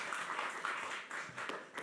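Audience applause for a startup pitch team at the Ukrainian Startup Awards, a brief burst of steady clapping from a room of people that fades quickly.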